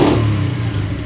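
A Panterra 49cc motorbike engine runs inside an enclosed garage, a loud close buzzing drone with a slight dip in pitch over about a second.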